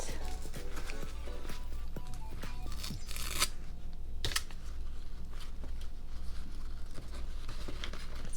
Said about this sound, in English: Oh, it's like taped up. Let's undo that.